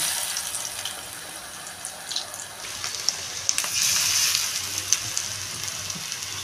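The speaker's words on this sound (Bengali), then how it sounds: "এবার আমি এরকম চ্যাপটা চ্যাপটা করে পেঁয়াজিগুলো দিয়ে দেবো। এরকম করে ভেজে নেব।" Flattened lentil-onion fritters (piyaji made with masoor dal) deep-frying in hot oil, a steady bright hiss and crackle with a few sharper pops, close and continuous with no talking.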